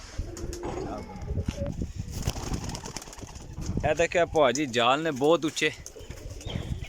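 Pigeons coo in their netted loft, with soft bird sounds early on and a louder cooing passage in the second half, partly mixed with someone talking nearby.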